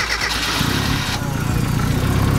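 A turbocharged Mazda Miata engine cranks and catches on its first startup, settling into a loud, steady idle with a low, uneven rumble that stays close and continuous.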